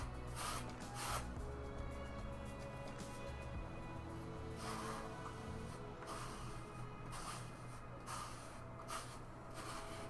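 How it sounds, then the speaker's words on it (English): Steady, continuous scratchy rasping of 60 grit sandpaper worked back and forth across a surface, close by, with faint intermittent bursts of hiss throughout. "sorry about the sandpaper sound"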